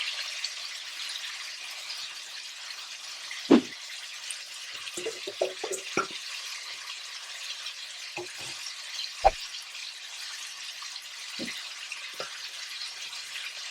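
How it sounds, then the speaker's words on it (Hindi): Steady sizzling of chicken frying on a high flame, with occasional clinks and scrapes of a utensil in the pan. "अब नीचे वाली साइड को भी थोड़ा सा फ्राई होने देते हैं हाई फ्लेम पर।"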